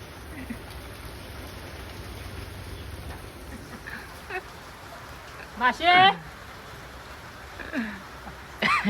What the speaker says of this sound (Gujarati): જોઈ શકો વરસાદ ચાલુ